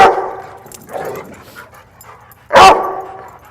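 A dog gives a few sharp, loud barks with short pauses between them, close by and with no one talking.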